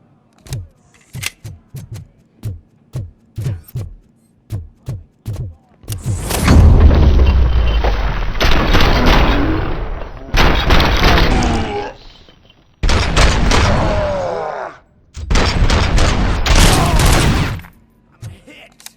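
Heavy gunfire in RoboCop: Rogue City: a string of short single shots leads into long, loud bursts of sustained automatic fire with booming low end, broken by brief pauses.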